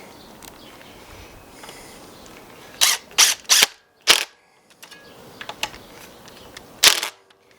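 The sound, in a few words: driving screws into a wire vise on a trellis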